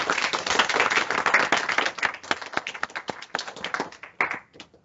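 Audience at a sleep-themed lecture and workshop claps at the close, a dense burst that thins into scattered, individual claps and fades out.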